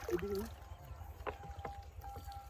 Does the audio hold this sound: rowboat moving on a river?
yes